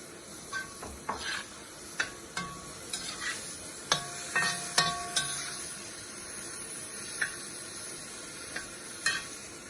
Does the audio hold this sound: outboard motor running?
no